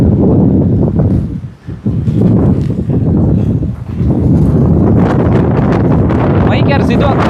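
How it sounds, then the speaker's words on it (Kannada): Strong wind buffets a microphone outdoors at a Tibetan camp, a loud continuous low rumble with brief dips, gusting throughout the clip. "ಗಾಳಿ ನಮ್ಮನ್ನೇ ಎತ್ಕೊಂಡೋಗಿ ಬಿಸಾಕೋ ಥರ ಐತಪ್ಪ"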